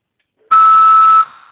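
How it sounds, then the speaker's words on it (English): A Global Tel Link phone-system prompt gives one steady, loud electronic beep lasting under a second, clean and alone on the line. "At the beep, repeat the phrase."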